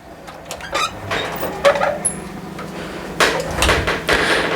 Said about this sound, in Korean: 주택으로 들어가는 출입문은 여기 측면에 보이는 요 검은색 출입문입니다. 열고 안으로 한번 들어가 보도록 할게요.